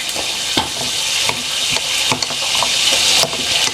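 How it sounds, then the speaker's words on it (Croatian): A spoon stirs sauce in a hot pan, steady sizzling with scraping strokes every second or so, close up. "Ovako da ja to sad izmiješam."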